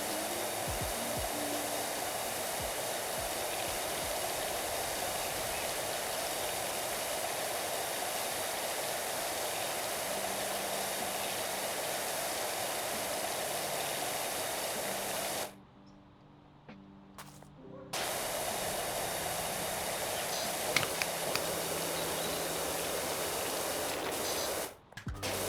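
A pressure washer sprays a stained roof in a steady, loud rushing hiss that cuts out briefly for a couple of seconds before resuming.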